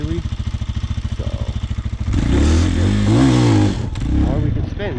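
Lifan Xpect motorcycle engine pulsing at a steady idle, then revving hard and accelerating for a wheelie pop-up, loud and close with a rising roar that eases off toward the end.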